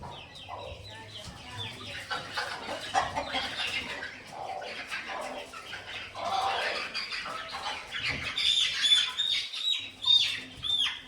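Hens cluck and squawk around a village poultry setup, irregular calls near and far, with chicks faintly peeping and a voice speaking intermittently beneath.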